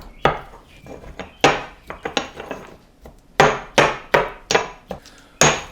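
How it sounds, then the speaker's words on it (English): Repeated hard knocks of a pestle pounding ingredients seasoned with salt and pepper in a mortar, sharp irregular thuds with brief ringing tails, about a dozen strikes spaced unevenly and close by, no talking. "Get the old pestle and let's just start mashing them up."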